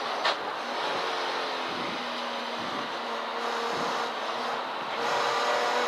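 A race car at Castle Combe accelerates out of a corner, heard as a steady, strained engine drone from on board with brief dips and shifts in pitch as the throttle changes.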